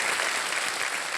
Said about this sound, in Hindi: जोरदार तालियां बज जाए उनके लिए